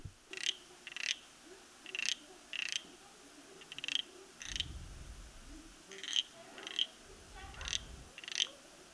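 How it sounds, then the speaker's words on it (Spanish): Frogs croak in short, repeated chirps spaced about every half second, fairly faint, with a low rumble partway through. "vamos a escuchar muchas ranas"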